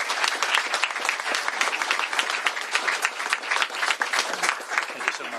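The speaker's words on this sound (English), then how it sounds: "Please give them a round of applause for their hard work on this legislation." Sustained applause from an audience at a governor's bill signing, honoring the legislation's sponsors; dense, steady clapping fills the whole stretch at close range with no break.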